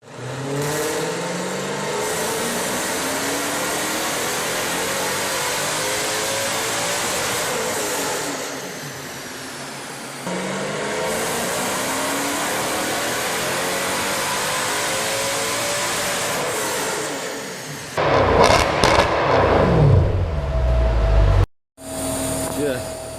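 A straight-piped, remapped Mercedes C63 AMG with a naturally aspirated engine idles and revs loudly and steadily up close, falling away briefly, then blips with sharp crackling exhaust pops near the end.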